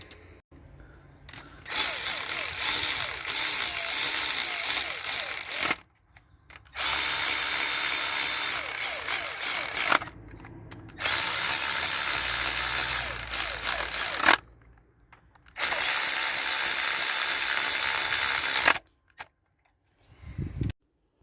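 A ratchet or power tool drives a bolt back in on a car part, running in four loud, sustained bursts of roughly three to four seconds each, separated by short silences.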